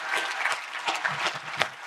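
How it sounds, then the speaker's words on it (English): An audience at a real estate investing summit in Niagara Falls gives a round of applause for the event organizers. The clapping is steady and dense and continues throughout. "A big round of applause for those guys"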